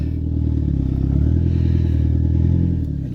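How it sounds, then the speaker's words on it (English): A turbocharged Mazda 3 with its exhaust disconnected drones loudly and steadily as it drives, a rough low rumble rising slightly midway, close up with no talk. "I apologize that it's so loud. My exhaust is still not hooked up yet"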